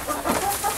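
Hens clucking in a greenhouse during a harsh winter cold snap, a few short close clucks over a soft background hum, with no voices.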